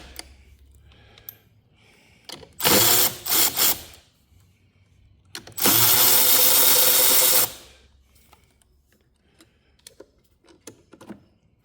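A ratchet works loose the 10mm clamp bolt on a Ford battery terminal: two loud bursts of rapid clicking, one short and choppy, one sustained for about two seconds, with quiet handling noises between.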